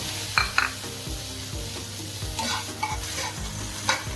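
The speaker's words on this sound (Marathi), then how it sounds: "नंतर यामध्ये टाकूत आपण टोमॅटो। टोमॅटो थोडंसं भाजून घेत आपण" Tomatoes frying and being stirred in a pan for shev bhaji, steady sizzling with repeated scraping strokes of a spatula and a few sharp clicks against the pan.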